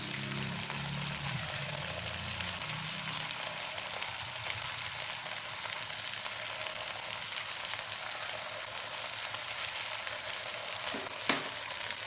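Leftover rice kurkure deep-frying in hot oil, a dense, even sizzle and crackle that runs steadily throughout, close up, with a small clink of a utensil near the end.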